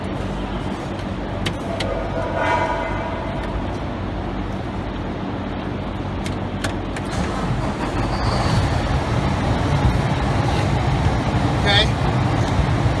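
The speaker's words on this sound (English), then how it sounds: "So what you want to do is crank up your vehicle." A truck engine cranked up for an air brake test sits at a steady low idling rumble throughout, with a few brief higher clanks and hisses near the end.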